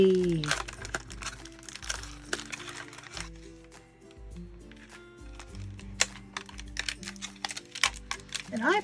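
A Na!Na!Na! Surprise doll is pulled from its plastic packaging, with crinkling plastic and small clicking handling noises running throughout, while background music plays and someone talks.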